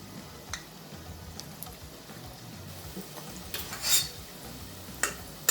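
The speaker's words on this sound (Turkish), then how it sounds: "Karıştırmak gerekiyor tek taraf çok pişmesin diye" Lokma dough balls fry in hot oil and are stirred with a utensil, giving soft sizzling with sparse clinks and scrapes against the pot. The sounds are faint and fairly close, with no talking.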